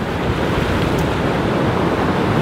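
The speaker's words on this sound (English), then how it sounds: "that's the noise you're hearing, is the dam behind us" Water rushes over a river dam nearby in a steady, loud roar with a broad wash of noise and no pauses, heard on its own without talk.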